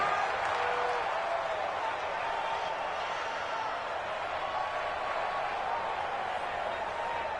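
A video game football crowd roars in a steady, sustained wash of cheering throughout, loud and continuous with no break.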